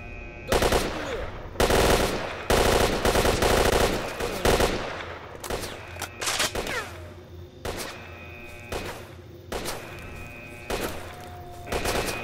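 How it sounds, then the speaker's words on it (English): Automatic gunfire rakes the player in S.T.A.L.K.E.R.: Shadow of Chernobyl, loud repeated bursts of rapid shots cracking in quick succession, then thinning into scattered single shots with short pauses between them. "I don't even know who's shooting at me."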